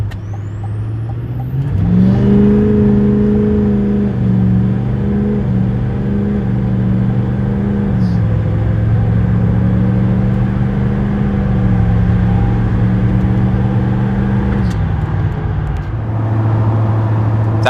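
A 2024 GMC Sierra HD pickup with the L5P Duramax diesel, exhaust deleted, accelerating hard from 0 to 60, a loud, steady diesel drone with gear shifts stepping the pitch, heard from inside the cab.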